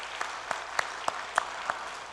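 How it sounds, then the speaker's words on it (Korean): At a church's early-morning New Year worship service, the congregation claps in unison, with six sharp, evenly spaced beats over a quiet room, fairly soft overall. "우리 박수 한번 해요."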